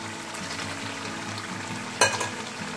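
Fried potatoes and spiced chicken sizzling in a pan, a steady close crackle with one sharp scrape of a utensil stirring near the end, no speech.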